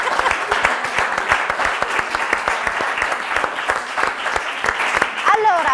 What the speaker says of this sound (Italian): Fatevi un applauso se siete contenti.